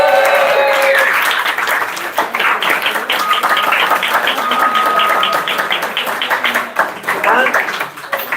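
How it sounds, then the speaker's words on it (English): An audience at a distillery tasting event gives a round of applause: dense, loud clapping from a roomful of people throughout, with voices mixed in underneath. "can we get a round of applause?"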